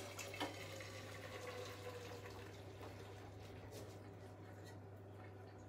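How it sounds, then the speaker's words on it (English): Water pouring steadily as cooked konjac noodles are drained into a sink, a continuous soft splashing rush with a low electrical hum underneath, close and fairly quiet. "I'm just going to drain these off"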